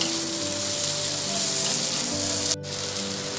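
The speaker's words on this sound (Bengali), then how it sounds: "আর দেব দুটো চেরা কাঁচা লঙ্কা দিয়ে আমি একটু এটা নাড়াচাড়া করব 1 মিনিট মতো" Slit green chillies and spices frying in oil in a pan, an even, moderately loud sizzle with a brief clack near the end from stirring, no voices.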